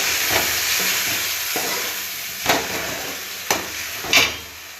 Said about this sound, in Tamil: இப்போ நறுக்கி வச்ச தக்காளியே கூட ஆட் பண்ணிக்கலாம்.